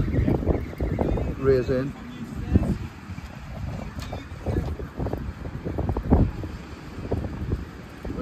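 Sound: wind blowing on a fishing pier

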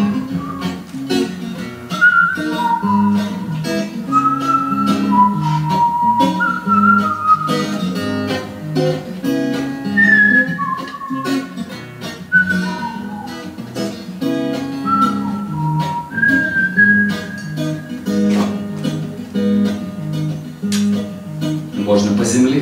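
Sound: artistic whistling performed with a song

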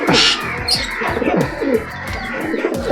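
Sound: pigeons cooing, Pondicherry homer pigeons

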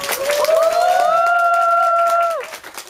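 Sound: audience applause

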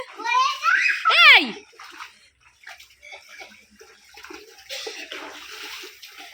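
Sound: children splashing in floodwater

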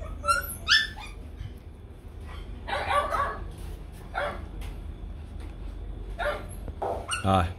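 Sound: puppies barking and whimpering

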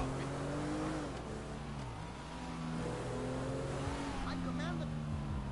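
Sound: car driving in a video game

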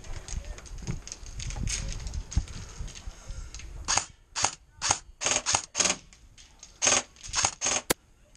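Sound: gunfire in Modern Warfare video game

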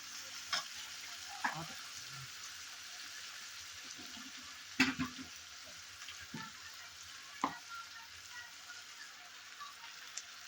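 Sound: tadka of ginger, onion, tomato sizzling in pan

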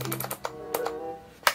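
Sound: typing on semi-mechanical gaming keyboard

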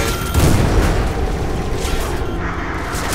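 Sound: grenade explosion in a video game

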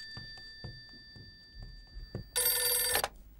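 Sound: telephone ringing

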